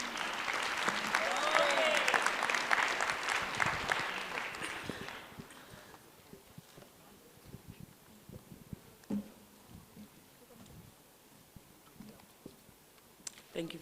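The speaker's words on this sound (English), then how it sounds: "Can we please give Dr. Phumzile a round of applause" Audience applause greets a speaker at a formal event in South Africa, a full burst of clapping for about five seconds that fades to scattered claps and room noise.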